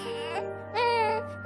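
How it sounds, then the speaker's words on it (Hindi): An infant inside a large garbage bin wails in two short, tonal cries, the second louder and longer, close by against a low steady hum. "उस बड़े से कूड़ेदान से एक बच्चे के रोने की आवाज आ रही थी"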